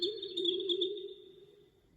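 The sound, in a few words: bird-like sounds from Make Noise QPAS and Mimeophon feedback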